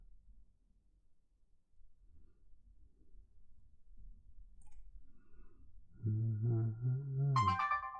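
After near silence, a low warbling electronic tone sounds, followed by a brief high chirping beep, as a device's battery dies.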